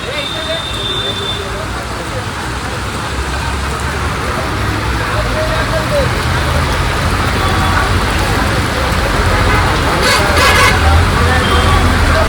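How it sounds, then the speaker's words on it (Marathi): Steady, loud broadband rush like heavy rain or a downpour on surfaces, constant throughout, with faint voices and traffic mixed in. "तेवढं जोरात पाऊस चालू आहे"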